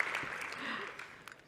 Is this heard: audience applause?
yes